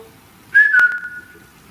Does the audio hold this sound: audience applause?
no